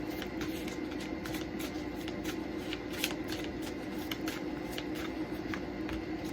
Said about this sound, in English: Let's pull these cards.